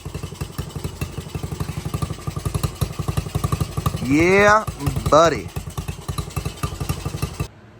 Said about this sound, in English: I'm okay with her idling like that because it sounds kind of good.